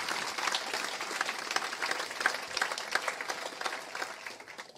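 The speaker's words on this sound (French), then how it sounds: "une bonne main d'applaudissements pour nos diplômés du programme en sciences de l'éducation" Fairly quiet applause rises from the audience at a university graduation ceremony on the Saint-Jérôme campus, honoring education-science graduates; the many hands give a light, even patter with small swells, heard from a distance.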